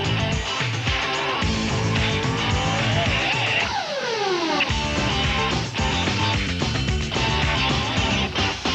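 Race cars roar by in a motor racing TV promo, loud revving engines with a sweeping drop in pitch as one passes, mixed with music and continuous track noise.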